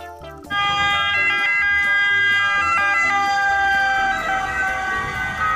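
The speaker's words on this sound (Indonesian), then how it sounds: "Wow, lihat teman-teman, di sini ada mobil ambulan." An ambulance siren wails loudly and steadily after a brief quiet start, a repeating tonal siren pattern with no voices over it.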